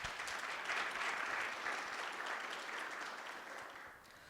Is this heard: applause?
yes